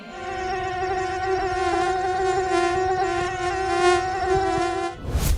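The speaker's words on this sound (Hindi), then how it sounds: "हाट, बाजार, चाय की दुकान और घरों में भी हर तरफ मच्छर भिन भिनाने लगते हैं।" Mosquitoes whine in a close, steady, high-pitched drone with harmonic overtones, continuous for about five seconds before a sudden burst of noise at the end.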